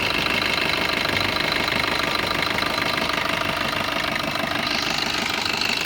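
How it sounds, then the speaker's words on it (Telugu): A 2018 Maruti Dzire ZDI diesel engine idles steadily up close, a continuous rough knocking rumble with even vibration throughout. "ఇంజిన్ ఆన్లోనే ఉంది"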